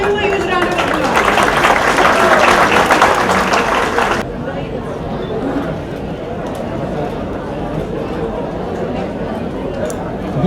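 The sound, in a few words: audience applause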